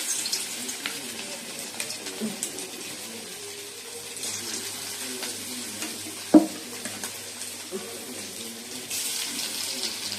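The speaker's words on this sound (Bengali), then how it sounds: "এবার চিকেনগুলো ভেজে নেবো।" Chicken pieces going into hot oil in a pan, giving a soft continuous sizzle with a single sharp clatter midway, close and moderately quiet without speech.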